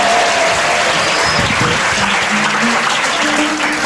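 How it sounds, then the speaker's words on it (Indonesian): An audience at a religious talk bursts into dense, loud applause, sustained clapping filling the whole stretch with a faint voice beneath it. "Tepuk tangannya buat Faisal."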